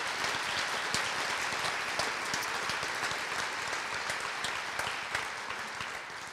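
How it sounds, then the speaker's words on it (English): Sustained audience applause at a live mental-health storytelling show in Napa Valley, a broad even wash of many hands clapping that holds for several seconds at moderate distance, with a few sharper claps standing out. "Let's have a huge applause for all that support."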